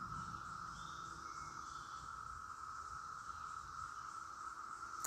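Cicadas calling along the Appalachian Trail in Virginia, a steady, shrill, unbroken drone held at an even level throughout against quiet woodland ambience.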